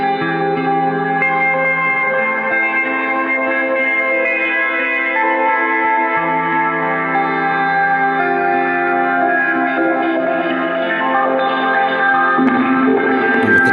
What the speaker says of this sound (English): Just a very unique sounding reverb.